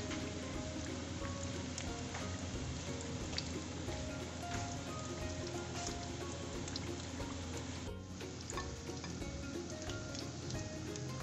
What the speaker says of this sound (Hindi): पिनव्हील्स हमारे बहुत ही ज़बरदस्त फ्राई हो चुके हैं।